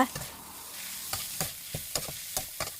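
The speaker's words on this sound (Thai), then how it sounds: "แล้วเราก็ผัดให้เข้ากันนะคะ" Minced pork stir-fried in a pan with holy basil: a soft background sizzle broken by a series of scraping stirring strokes of the utensil against the pan, close and fairly quiet, with no talking.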